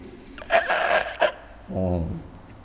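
A man imitates a wild junglefowl's crow with his voice, first a few loud strained syllables, then a lower drawn-out call, close up in a quiet room.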